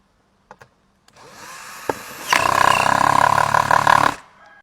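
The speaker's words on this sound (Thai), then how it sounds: "อันนี้ใช้เป็นสว่านเนาะ" A power drill driving screws while assembling a square bar whirs up briefly, then runs loud and steady for a couple of seconds before stopping, with a few clicks beforehand.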